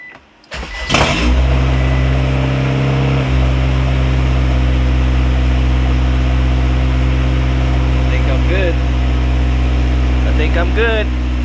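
A Honda Civic wagon engine cranks and catches, then settles into a steady, loud high idle that holds for several seconds, with a few faint clicks near the end.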